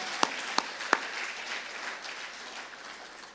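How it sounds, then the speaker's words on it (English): Applause from the audience at a 2022 EBS graduation ceremony: three sharp claps open it, then a soft, steady patter of clapping that stays quiet and fairly distant throughout. "Big round of applause to Team EBS for making this happen."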